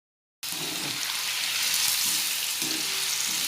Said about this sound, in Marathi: हे बघा असे सगळे तळून घ्यायचे, ते थोडे थोडे करत तळून घ्यायचे